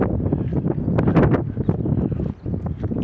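Cold wind blows outdoors under a clear morning sky, buffeting the microphone in a steady, rough rush of noise with gusty swells and no voice.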